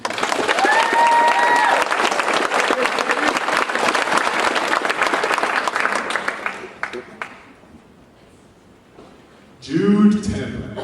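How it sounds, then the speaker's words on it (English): An award ceremony crowd applauds loudly and continuously for several seconds, the clapping thinning out to scattered claps before a voice speaks near the end. "So let's give her one more round of applause"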